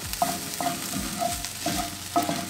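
Onions and chopped garlic fry on a barbecue, a steady sizzle broken by several clanks of a utensil stirring and scraping the pan, close and moderately loud with no talking.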